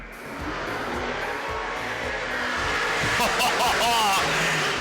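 Super saloon race cars at Baypark Speedway roar together at the start of a race, a loud continuous engine drone with rising whine as the field gets away, under an excited commentator's voice.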